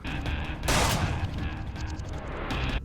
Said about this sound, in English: and my favorite, the shotgun traps